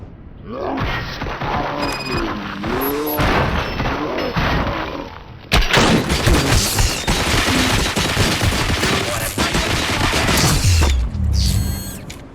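Gunfire in the RoboCop: Rogue City shooter, a dense burst of shots and booms over game music and effects, loud and continuous, with a sharp blast near the middle.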